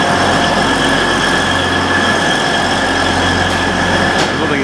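Train at a station platform on the line serving Sheffield and Derby, with a steady loud rumble and a continuous high ringing wheel squeal, plus a couple of brief sharp clanks near the end.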